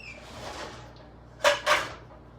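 A soft scrape followed by two sharp metallic clanks close together, like a lid being lifted and knocked against a pot on the stove while cooking Thai coconut soup.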